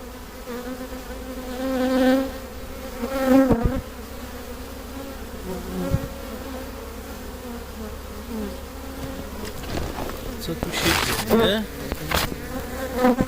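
Honeybees buzzing around an opened beehive, a close, loud, wavering drone with individual bees passing near, plus occasional knocks and handling clatter from the hive.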